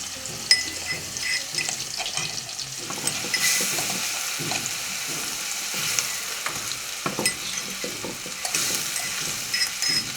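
Garlic and onions fry in a pan over a village firewood fire. A steady sizzle runs throughout, with scraping stirring noises coming and going and no voices.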